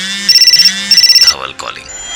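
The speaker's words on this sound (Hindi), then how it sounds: "उसी वक्त दोनों का फोन एक साथ बजा" Two phones ring at once with an electronic ringtone, two bursts of rapid pulsing tones, loud and close, then a voice speaks as it cuts off.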